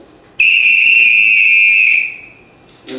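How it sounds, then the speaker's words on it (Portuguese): A shrill apito whistle of a Bumba Boi Maranhão ensemble blows one long sustained blast for about a second and a half, then fades out; loud and close, followed by a brief hit of another sound. "é essencial o apito"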